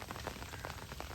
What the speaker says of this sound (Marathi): आणि पाऊस जाम पडतोय पण वाणी नाही आपल्या खाडीला